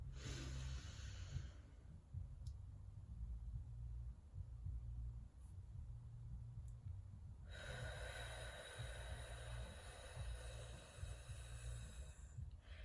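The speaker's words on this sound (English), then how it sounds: "You breathe in for 4, you hold for 7, and breathe out for 8." Slow 4-7-8 breathing exercise: a long inhale, a held pause, then an extended exhale, each breath soft and close with a steady rhythm and no talking.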